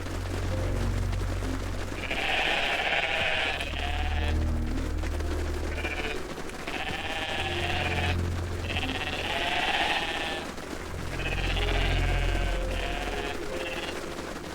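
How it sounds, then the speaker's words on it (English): Bighorn sheep in the Lego Bricktales video game bleat repeatedly in short bursts every second or two, fairly loud over a low droning game background. "There's a lot of bighorn sheep here."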